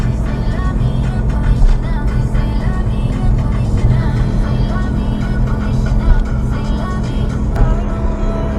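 From inside a car cruising a Jakarta toll road at night comes a steady, continuous drone of engine and tire noise, even and unbroken throughout, with no talk.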